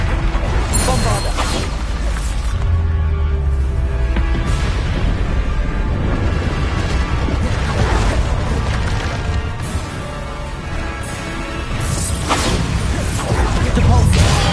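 A Bombarda explosion spell in Hogwarts Legacy crashes amid a continuous, dense clamour of combat effects, with repeated smashing and whooshing impacts at a steady loud level throughout.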